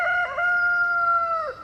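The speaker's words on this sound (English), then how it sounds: "There goes one of our roosters." A rooster crows one long, loud, sustained call close by, with a rough break at the start and a falling finish, clear over faint background noise.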